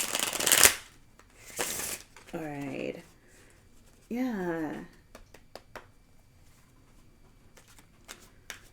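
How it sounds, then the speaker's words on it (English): Tarot cards are shuffled by hand in a few brisk riffling bursts, close and crisp, with a voice speaking briefly between them and softer card handling afterward. "let me do a proper shuffle of this"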